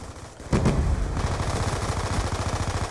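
Gunfire in Black Ops 2 on the Nuketown map: a loud burst starts, then rapid, evenly spaced automatic shots continue close and steady, with no talking.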